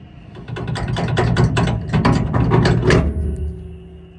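A hand ratchet rapidly clicks as it turns a bolt while leveling a Ford Super Duty truck, a close, steady run of sharp pawl clicks in quick rhythmic bursts lasting several seconds before stopping.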